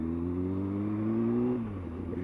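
A motorcycle engine drones steadily at the start of a short ride, pitch rising slowly before the revs drop briefly at a shift, close and continuous.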